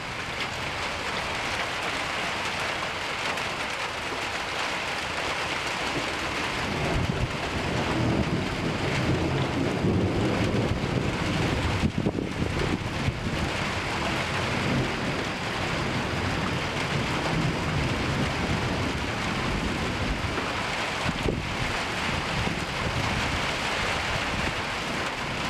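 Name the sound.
thunderstorm with thunder and heavy rain in Oklahoma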